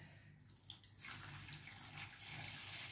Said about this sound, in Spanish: ahora vamos a colocar el agua potable